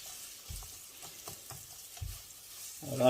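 Onions and peppers fry in a pan for menemen, a soft sizzle broken by several light clinks and scrapes of stirring, ending in a brief louder clatter.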